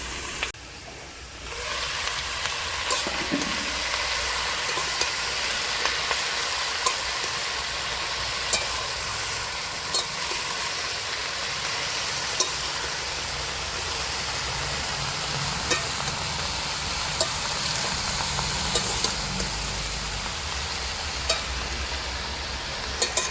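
Vegetables seasoned with green chilli, salt and turmeric sizzle steadily in a pan, a continuous close hiss with faint clinks, no talking.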